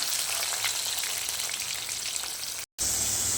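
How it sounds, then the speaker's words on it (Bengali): Large salted potato pieces fry in hot oil in a home kitchen, giving a dense, steady sizzle and crackle close by. The sound breaks off for a moment, then resumes, with no talking. "আলুগুলো আমি একটু লাল লাল করে ভেজে নিচ্ছি।"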